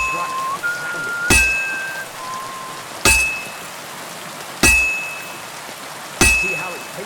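In the video game Kingdom Come: Deliverance 2, a blacksmith's hammer strikes hot metal on an anvil. Four loud, sharp metallic clangs ring out about every one and a half seconds, each fading quickly over a faint hiss, with a few soft chimes early on.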